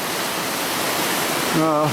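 A swollen river, running high after rain with runoff from the mountains, rushes in a dense, steady roar near at hand, and a voice cuts in briefly at the very end.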